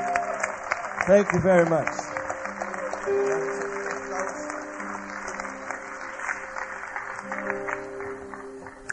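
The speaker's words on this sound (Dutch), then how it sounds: "Geef hem een geweldig applaus." A church congregation applauds a visiting pastor, clapping and cheering near and loud beneath someone speaking over it.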